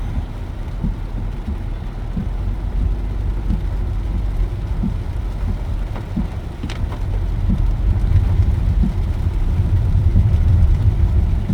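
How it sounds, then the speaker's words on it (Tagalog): Heavy rain roars as a steady, dense wash while a vehicle travels through a downpour toward Santa Maria, Bulacan, with a low engine rumble underneath and occasional faint knocks. "madilim ang maligid dahil sa ulan sobrang lakas talaga ng ulan yan"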